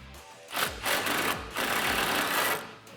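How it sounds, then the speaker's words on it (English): An impact gun fitted with an extension, swivel and 18 mm deep socket hammers on a strut nut during a front leveling kit install on a 2015-2019 Ford F150, firing in three or four rapid bursts, close and loud. "in order to do it with an impact gun, I'm gonna use an extension, a swivel, and an 18 millimeter deep socket"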